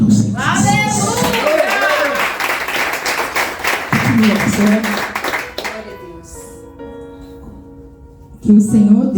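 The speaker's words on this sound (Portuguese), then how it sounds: "Então quem crê aplauda o Senhor" A church congregation claps loudly and quickly in a dense burst, then the clapping fades out as someone speaks and continues talking.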